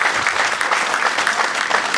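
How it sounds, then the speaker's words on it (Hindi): A theatre audience at a Hindi stage comedy by a Delhi company claps loudly and continuously, a dense burst of applause that fills the room throughout. "एक बार सभी के लिए आप लोग तालियां बजाएं"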